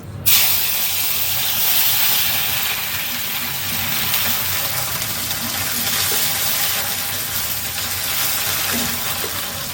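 Ginger paste hits a hot pan while chana dal cooks, setting off a sudden loud hiss that settles into a steady, close sizzle lasting throughout.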